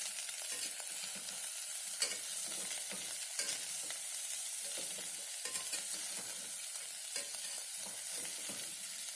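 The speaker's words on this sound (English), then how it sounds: "Five carrots roughly chopped. Saute for 2 minutes." Five roughly chopped carrots sauté in a pan for a carrot ginger soup, giving a steady, close sizzle with repeated stirring scrapes throughout and no voices.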